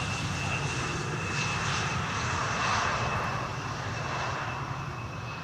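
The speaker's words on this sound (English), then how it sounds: "This is KLM flight 1076. Arriving from Bristol, Embraer 175." A KLM Embraer 175 jet arriving on runway 18R at Schiphol produces a steady broadband engine roar that swells slightly and then holds, heard from a distance with no talk.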